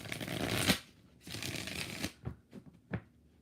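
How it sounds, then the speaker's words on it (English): Tarot cards are shuffled up close in two quick riffling bursts, then a few soft separate taps as the deck is squared, with no talking. "Five shuffles for Antoinette."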